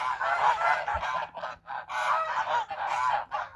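A flock of domestic geese honks and squabbles in loud, overlapping bursts after feeding and drinking in a farmyard on a frosty day, with brief pauses between clusters of calls.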